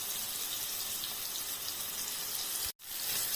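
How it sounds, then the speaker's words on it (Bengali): Vegetables sizzle and crackle as they fry in hot oil, a dense, steady hiss with a brief cut near the end and no voices. "সব সবজিগুলো একটা একটা করে ভেজে আমি তুলে নেব।"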